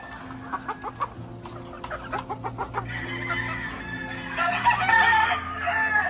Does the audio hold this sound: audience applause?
no